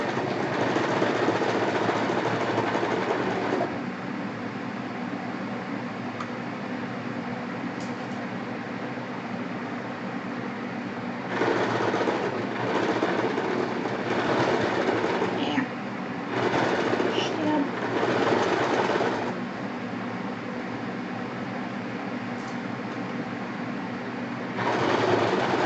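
A sewing machine stitches fabric in a steady mechanical whir that runs almost the whole time, with short bursts and pauses as the seam is fed and restarted near the edge of the fabric; a voice talks over it at times.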